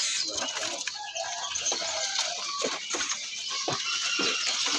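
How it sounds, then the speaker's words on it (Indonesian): A magpie robin sings at a busy bird market, with quick faint chirps and whistles mixed among other caged birds' cooing and clucking in a low background. "Ini murai."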